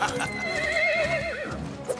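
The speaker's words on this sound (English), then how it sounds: "Catch those horses!" Horses whinny loudly in a drawn-out, wavering neigh, with hoofbeats clopping underneath in an outdoor Zorro scene.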